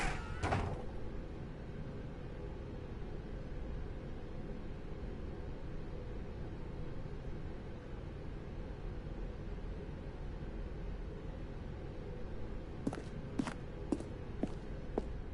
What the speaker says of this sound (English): Stanley walked through the red door.